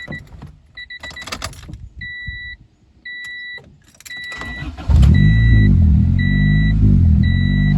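A junkyard Honda car that has had a budget manual swap starts up. A repeating two-tone door chime beeps, then the engine cranks and catches into a loud, steady idle close by, with the chime still sounding over it.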